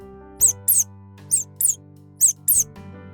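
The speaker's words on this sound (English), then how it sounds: "mouse," A mouse gives six short, high-pitched squeaks in three close pairs, clear and near over a low steady hum.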